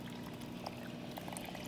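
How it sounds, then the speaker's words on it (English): Water flows steadily through a sediment-laden stream table, a continuous close, gentle gurgle and trickle with small bubbling pops and no talk. "Really have some nice water flow."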